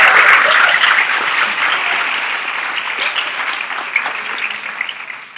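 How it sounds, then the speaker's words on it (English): An audience at the closing of a conference gives a round of applause for the organizers, loud dense clapping at first that gradually thins and fades, with a few scattered late claps near the end. "we give one more round of applause for the organizers of LTS"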